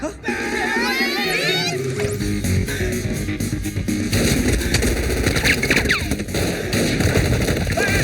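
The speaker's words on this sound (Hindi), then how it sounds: "गोलियां चल रही है, बचाओ!" Sharp repeated gunshots crackle through a dense, chaotic din of shouting and children's voices in a comedy film scene, loud and close throughout.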